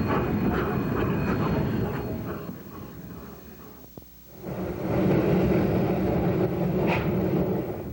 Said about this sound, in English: The rotary still makes an impressive sight as it crosses the highest bridge on the railroad